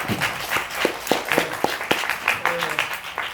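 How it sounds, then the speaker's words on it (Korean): Audience applause at a lecture and Q&A session, heard as scattered, uneven claps at a moderate distance, fairly quiet with a faint voice in the background. "오늘 이 시간을 귀한 시간을 주신 우리 선생님께 한 번 더 큰 박수 한번 보내주십시오."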